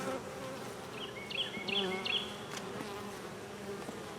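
Honeybees buzz steadily around an open nuc hive holding a marked queen, eggs and nectar, a continuous dense drone with a few sharper passing whines from bees flying close.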